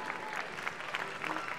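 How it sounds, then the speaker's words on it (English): Faint, steady applause rises from an audience at a sock hop night show, a brief patter of many hands with no voices over it. "Let's give a big round of applause to them."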